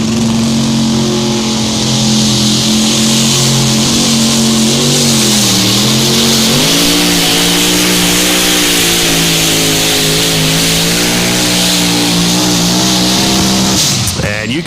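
A supercharged drag racing truck at a drag strip accelerates hard down the track, a loud sustained engine roar whose pitch climbs and dips through gear changes, with an announcer talking over it.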